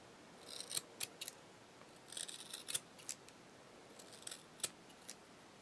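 Scissors snip and trim a piece of material in a series of short, crisp cuts, some in quick clusters with brief pauses between them, close by in a quiet room.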